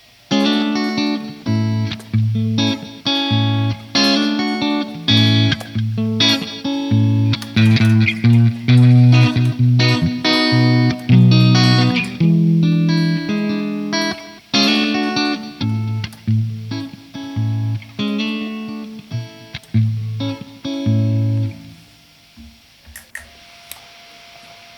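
Electric guitar from a budget Strat-style instrument on the bridge pickup plays through a distorted Marshall amp model, loud chugging riffs and chords in bursts with short pauses, ending in a fading ring.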